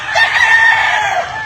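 Rooster crowing once, a loud close drawn-out call that rises and holds before trailing off, heard alone.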